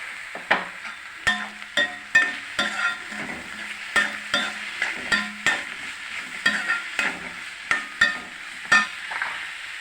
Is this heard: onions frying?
yes